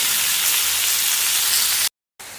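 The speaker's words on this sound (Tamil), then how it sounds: "கொஞ்சம் சால்ட்டும் போட்டு வதங்குறத வர லோ ஃப்ளேமில் கிண்டி கொடுத்துட்டு இருக்கணும்." Chopped tomatoes with salt frying on a low flame for tomato chutney, giving a steady, close, loud hiss of sizzling that breaks off briefly near the end before resuming.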